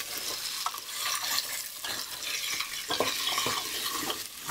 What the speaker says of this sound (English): So we're just gonna let that saute down for a couple minutes.